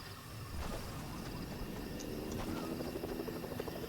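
Helicopter flying over a wooded area in a lightsaber battle video game, a steady throbbing rotor drone at moderate distance with scattered small game effects, no talking.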